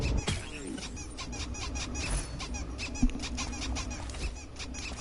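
Turrets taking damage in the video game Risk of Rain, rendered as a steady flurry of shrill squeaky hit sounds with a sharp impact near the middle, all set against a cluttered game mix with no talking.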